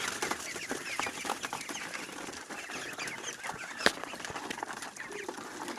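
Chickens on a rooftop poultry enclosure cluck in a dense, steady chatter, a flock close by with scattered sharper calls and one brief louder squawk partway through.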